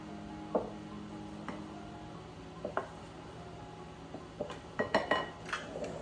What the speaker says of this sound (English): And now I'm just going to give this a quick stir.